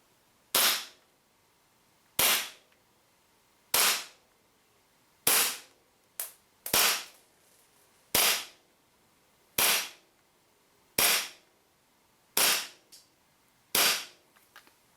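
A WE GP1799 gas blowback airsoft pistol running green gas and 0.2 g BBs fires ten sharp, well-spaced shots at a steady pace of roughly one every one and a half seconds, each crisp and close with quiet between.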